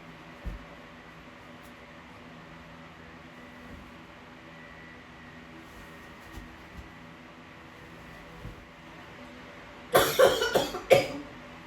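A short burst of several coughs rings out near the end, close and fairly loud, after a long stretch of quiet background hum with faint knocks.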